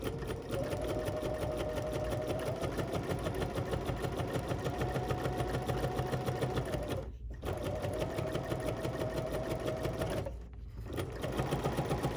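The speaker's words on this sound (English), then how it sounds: "We don't have that much to stitch here." A sewing machine stitches an embroidery sampler block, a close, steady rhythmic whir and clatter that runs continuously, halting briefly twice before starting up again.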